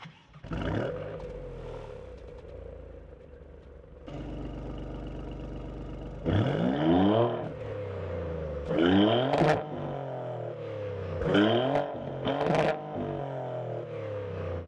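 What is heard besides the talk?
Maserati GranTurismo six-cylinder engine revving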